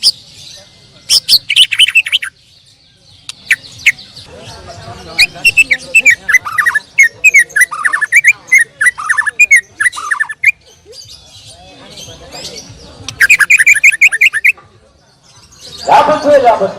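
A white-rumped shama (murai batu) sings in loud bursts of bright whistles, chirps and rapid trills separated by short pauses, close and clear, with scattered squawky notes near the end.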